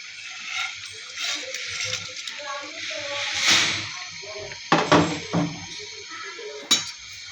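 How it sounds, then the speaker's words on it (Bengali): Fried pangas fish goes into a pan of simmering curry with hot water, bringing a hiss of sizzling and a few clattering knocks of utensil against the pan, with a voice speaking over parts of it. "দিয়ে দিব ভেজে রাখা পাঙ্গাস মাছ।"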